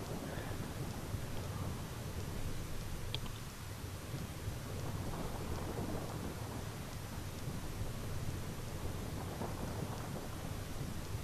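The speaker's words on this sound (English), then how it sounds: "let's get out of the rain." Rain and thunder in the Final Fantasy X game, steady heavy rainfall hissing throughout with low rumbling thunder beneath, continuous and fairly loud, no voices.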